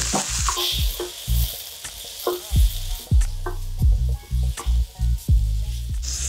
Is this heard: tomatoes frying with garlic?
yes